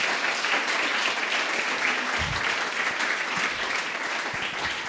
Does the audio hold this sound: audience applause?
yes